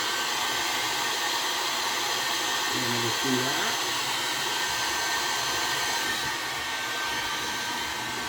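A cheap handheld hair dryer heats a vinyl hood scoop overlay decal on a Toyota Tacoma or 4Runner. Its close, steady whirring hiss runs continuously while someone talks briefly over it.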